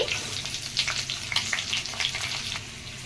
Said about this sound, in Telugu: ఈ దోరగా వేయించుకోవాలి.